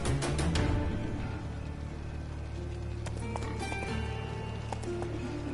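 Horse hooves gallop in a steady, rapid clip-clop rhythm in The Witcher 3, loud and close, with a continuous game soundscape underneath and a few faint tonal blips.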